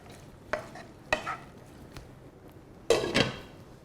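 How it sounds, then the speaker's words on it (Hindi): Onions boil in a pot while a spoon stirs them, making a few quiet, separate scraping knocks with pauses between, ending in a slightly louder double scrape. "अब इसे हम स्टर करेंगे और इसे हमें अच्छे से बॉईल करना है जब तक अनियंस"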